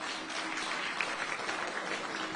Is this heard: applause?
yes